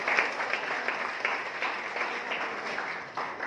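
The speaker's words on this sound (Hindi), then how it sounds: "एक बार जोरदार तालियां बजाइए।" Audience applause at a Kargil Diwas gathering, a steady wash of many hands clapping that holds at even loudness for a few seconds, with dense overlapping claps and no voices on top.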